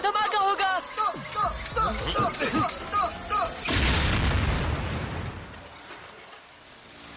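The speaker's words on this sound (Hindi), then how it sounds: "भागो, धमाका होगा।" In a Hindi-dubbed episode of the animated Transformers: Robots in Disguise, voices and busy effects give way to a loud cartoon explosion, a deep boom that rumbles and slowly fades to quiet.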